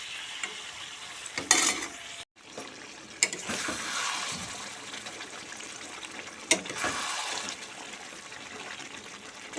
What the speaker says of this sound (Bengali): বন্ধুরা, এবার আমি চিকেনটা ভালো করে কষিয়ে নিব।